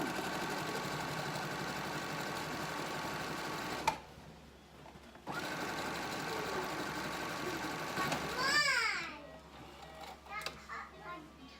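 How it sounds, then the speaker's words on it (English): Sewing machine running a zigzag stitch along bathrobe sleeve hems, a steady mechanical whir in bursts with short pauses and faint background noise. "I'm going to set my machine to the zigzag stitch here."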